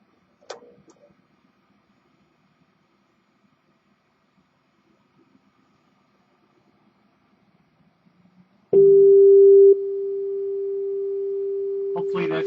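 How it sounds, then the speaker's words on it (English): After a long near-silence with a faint click, a steady 400 Hz sine wave test tone through a vintage Harman Kardon amplifier starts abruptly, holds loud, then drops slightly in level and continues. "you're going to hear a 400 cycle sine wave, probably distorted"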